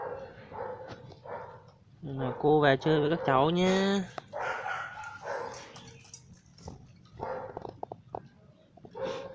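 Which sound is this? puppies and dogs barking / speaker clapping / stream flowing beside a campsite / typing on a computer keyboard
puppies and dogs barking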